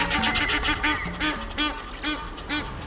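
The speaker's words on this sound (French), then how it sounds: "L'oie d'Égypte, c'était un animal sacré pour les anciens Égyptiens." Egyptian goose in Kenya giving a run of repeated nasal honking calls, loud and close, in a steady rhythm of several calls over a faint background hum.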